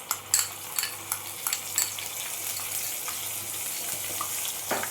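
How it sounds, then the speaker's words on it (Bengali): Onions hit hot oil with whole spices for a chana masala, giving a steady close sizzle broken by sharp clinks and scrapes of a spoon stirring in the pan. No one talks. "পেঁয়াজটা দিয়ে আমি ভালো করে 2-3 মিনিটের মতো পেঁয়াজটাকে ভেজে নেব।"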